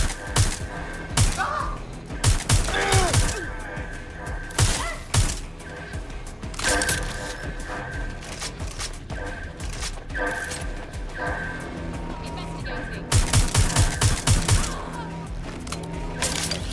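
Bursts of gunfire in the Watch Dogs Legion video game, sharp repeated shots clustered in volleys near the start, middle and end, over constant game ambience and a steady background hum.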